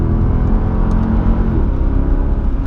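A Mercedes-Benz CLK63 AMG Black Series engine rumbling on compression, a loud, close, steady low growl that holds throughout with a slight shift partway through, with no talking.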